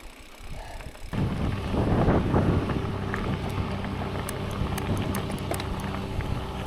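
A tractor's rumbling engine passes close by, loud and steady under gusty wind buffeting the microphone, with rattling mechanical noise throughout.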